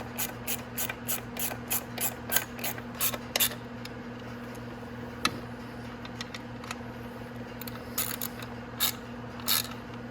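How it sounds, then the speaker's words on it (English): A hand ratchet tightens bolts on a Venom X18 50cc automatic motorcycle, giving quick rhythmic bursts of clicking close by, then scattered clicks after a pause over a constant low electrical hum. "Now I'm gonna ratchet and make sure to go around and tighten all those."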